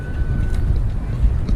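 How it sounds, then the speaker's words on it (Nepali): Hot wind blows by the Rapti river, a steady close roar buffeting the microphone for a moment, with no talking. "कस्तो तातो हावा आएको यार"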